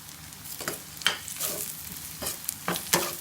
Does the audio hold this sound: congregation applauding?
no